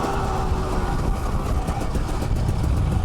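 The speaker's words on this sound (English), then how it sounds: "now that's too high RPM, so I'll grab third" A 2019 Husqvarna TE300i dirt bike engine drones steadily at high revs while riding, a dense, continuous, fairly loud roar with no pauses.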